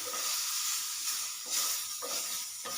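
Green tomatoes roasting in a covered pan give off a close, steady sizzle and hiss that swells in a few brief surges, with no voices.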